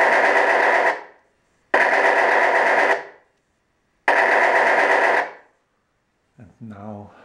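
A model aircraft's onboard sound system fires three loud bursts of electronic machine-gun noise, each about a second long with clean gaps between them. A short voice follows at the end.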